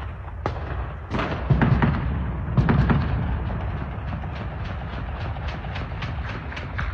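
Gunfire near intelligence headquarters in Khartoum, a string of sharp distant cracks and bangs echoing over a constant low rumble, irregular at first and then settling into a steadier rhythm.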